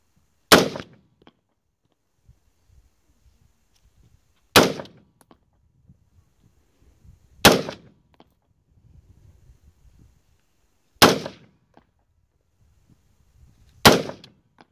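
Five single AR-15 rifle shots ring out outdoors at a slow, even pace, each a sharp loud crack with a short decaying tail and quiet gaps between.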